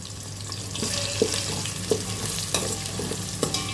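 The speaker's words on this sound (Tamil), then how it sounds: "எல்லாத்தையும் நம்ம கொஞ்சம் நல்லா ஃப்ரை பண்ணிக்கலாம்." Curry leaves, green chillies and cashews fry in a pan with a steady hiss and crackle, punctuated by a few sharp scrapes and taps of a spoon stirring, close and with no talk.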